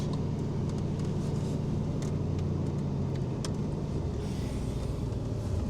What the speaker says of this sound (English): Driving the Aston Martin.